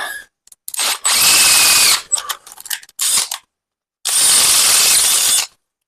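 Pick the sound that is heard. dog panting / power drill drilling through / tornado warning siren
power drill drilling through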